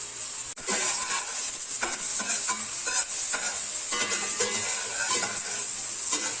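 Garlic and onions sauté in a pan for a vegan mushroom soup, a bright steady sizzle broken by repeated scraping stirs and a sharp knock near the start, close and loud, with no voices.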